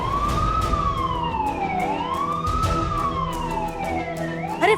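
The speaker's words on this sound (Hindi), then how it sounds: "अरे फायर ब्रिगेड वाले आ गए" A fire engine siren wails in long, slow rising and falling sweeps, loud and steady over a rumbling engine and road noise, with no voices.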